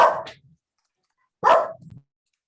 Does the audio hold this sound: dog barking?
yes